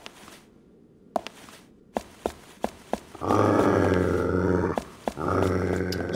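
Dogs growl and snarl in the video game Fragile Dreams: Farewell Ruins of the Moon. Several sharp footstep-like impacts come first, then two sustained stretches of loud, rough growling with brief hits between them, with no talk.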